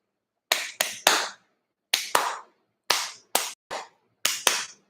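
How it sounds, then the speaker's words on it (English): Children clapping their hands in rhythm during a preschool class, crisp sharp claps in groups of three then two, repeated in a steady pattern with brief pauses between groups. "We will learn to clap in a rhythm"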